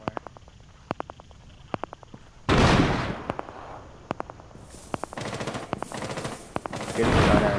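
Gunfire in the tactical shooter Rainbow Six Siege during a house hostage match: sharp single shots spaced through the first seconds, then dense bursts of automatic fire and loud crashing blasts, close and loud, alone without talk.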